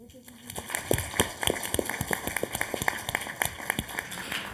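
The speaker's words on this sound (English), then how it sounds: "Big round of applause for Ms. Gunn once again." An audience at a semiconductor women's forum applauds after a speech, a steady patter of many hands clapping at moderate volume in a hall, with a voice speaking over it.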